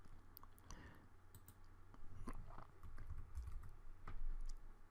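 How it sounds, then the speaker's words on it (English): Fingers tap out an account number on a computer keyboard, a quick run of light, close clicks with brief pauses between bursts of keystrokes over a low background hum. "Then you type in your account number."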